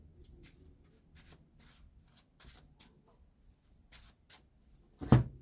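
A stack of Flesh and Blood trading cards is shuffled close up at a tournament table, with soft riffles and taps repeating irregularly before a louder final clack.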